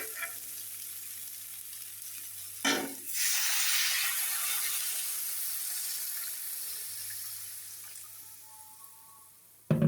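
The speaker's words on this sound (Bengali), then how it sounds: "এখন পরিমাণ মতো জল দিয়ে দেবো।" Water pours into a pan of sizzling vegetable curry made with stalks, potato and eggplant, a brief splash giving way to a loud, broad hiss that slowly settles into a steady simmering bubble, with no voices.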